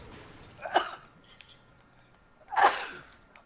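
Two sneezes a couple of seconds apart, each a sharp, fairly close burst over a quiet background with no talking.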